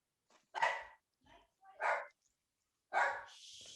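A dog barks at an Amazon package delivery, three separate loud barks spaced about a second apart with short whimpering sounds between them, close to the microphone, followed by a faint high steady tone.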